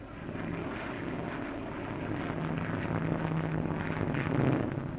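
Hawker Hunter jet aircraft flying at the 1953 Farnborough air show, a steady broadband roar that swells slightly toward the end, heard alone without voices.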